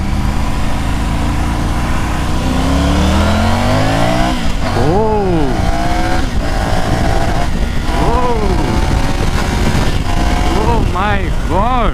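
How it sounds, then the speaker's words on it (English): A Triumph Tiger 900 motorcycle accelerates hard in sports mode on an open stretch, its engine rising through several gears with sweeping revs and brief dips at each shift, loud and close amid wind noise. "So now I get an empty stretch over here to see and check the acceleration of the bike."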